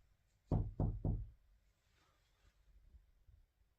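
Three quick, loud knocks on something inside a room, hotel room 310, land close together near the start, followed by a faint, quiet room tone with a few soft bumps.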